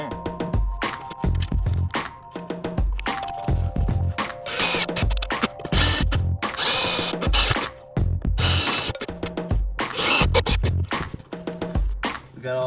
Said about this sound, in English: screw this baby into the wall